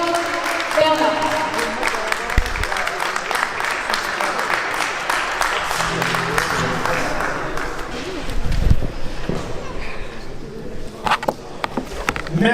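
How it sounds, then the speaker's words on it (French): Audience applause for two people at a press conference, steady broadband clapping filling the room for several seconds, fading and thinning toward the end with some voices mixed in. "Un donneur d'applaudissements, s'il vous plaît, pour Carla Hamilton et Antoine Bernard."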